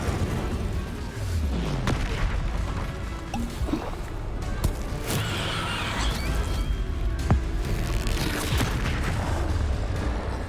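Fire spells and explosions crackle and boom almost without pause through a Hogwarts Legacy battle, with bright bursts and low thuds overlapping in a dense, loud stream of game combat.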